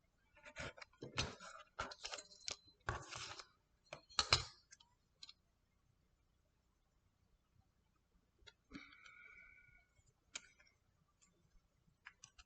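Scissors snip off the protruding strips of a braided paper birthday card, a run of sharp close clicks and cuts in quick succession, then a pause and a few more isolated snips and rustles.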